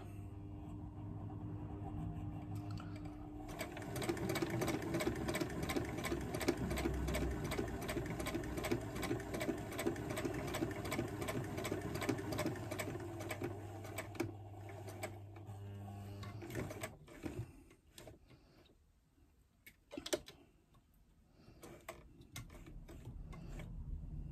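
A domestic sewing machine stitches a wallet, its needle mechanism running in a fast, steady mechanical rattle for about thirteen seconds, then stopping, followed by scattered handling clicks and a brief thump, with no speech.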